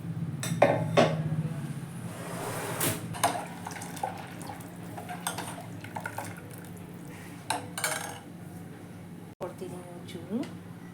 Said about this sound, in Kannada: ಮಿಕ್ಸರ್ ಜಾರನ್ನು ತೊಳೆದು ಸ್ವಲ್ಪ ನೀರು ಹಾಕ್ಕೊಳ್ತಾ ಇದ್ದೀನಿ